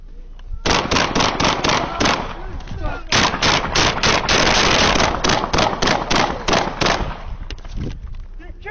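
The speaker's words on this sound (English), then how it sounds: "Shots fired." Police officers firing a rapid volley of gunshots during a confrontation with a baseball-bat-wielding man in Wyoming, loud close cracks in fast bursts over several seconds, with shouting voices mixed in.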